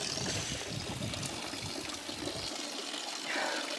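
Cold mountain water flows and trickles in a steady, soft stream on a high Swiss mountain hike around 10,000 feet, faint and continuous with no talking.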